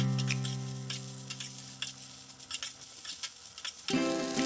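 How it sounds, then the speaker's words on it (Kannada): Onion, coriander leaves and a small tomato frying in a pan for a ridgegourd gravy dish, giving a steady close sizzle with light stirring clicks, ending in a brief louder clatter. "1-2 ನಿಮಿಷ ಫ್ರೈ ಮಾಡ್ಕೊಳ್ಳಿ."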